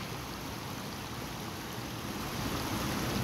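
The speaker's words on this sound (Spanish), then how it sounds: "Es bien bonito el río, miren." A river rushes steadily near a hammock footbridge in Joyabaj, Quiché, Guatemala, a dense, broadband roar of flowing water that stays loud and unbroken throughout, with no voices.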